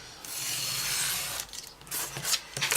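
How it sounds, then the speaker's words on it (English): Craft material is trimmed by hand, a close, quiet rubbing and rasping cut lasting about a second, followed by a few short scraping snips. "I'm just going to trim this up a bit."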